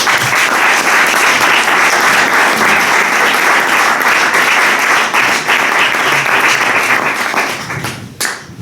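Sustained applause from an audience at a book presentation of Roberto Rivera's "El Gran Salto" in a Riojan cultural centre, dense steady clapping that thins and fades out near the end.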